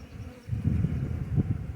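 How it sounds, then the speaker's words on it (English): Honey bees buzz around the frames of an open 5-frame nuc hive being moved into a brood chamber, a low, close swarming drone that swells and dips continuously with no voices. "you can see we've kind of got bees in the way everywhere"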